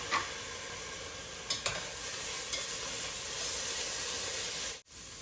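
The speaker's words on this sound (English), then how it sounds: "And garlic is really easy to burn, so you only want to add it in there for a little bit. Make sure it's stirred around about 30 seconds." Minced jarred garlic sizzles steadily in a hot pan with onions for low carb Mexican noodle soup, with a constant hiss and a few soft scrapes of stirring, close and even throughout, no voices.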